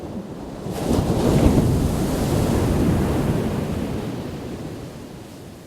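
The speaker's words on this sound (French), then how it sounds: "si on est violemment brassé par de très grosses vagues" Huge ocean surf rolls and crashes in a loud roaring wash that swells after the first second and slowly fades, with wind buffeting the microphone.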